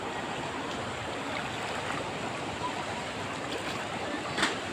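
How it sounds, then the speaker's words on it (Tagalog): River water flowing past a sandy bank in Gaya-Gaya, Bulacan, a steady broadband rush with a faint wind-like hiss, continuous and even at moderate distance. "Ayan ang ilog dito sa Gaya-Gaya."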